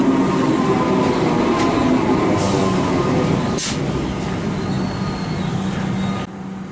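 Melbourne city loop train pulling out of Clayton station, a steady loud rumble of carriages on the rails with brief squeals and clanks, continuous throughout and easing slightly near the end.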